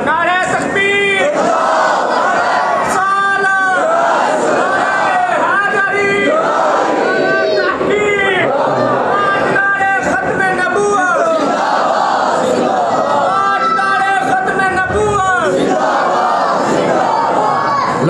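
A large gathered crowd at a religious sermon chants loudly in unison in response to a slogan call, with sustained massed voices filling the clip.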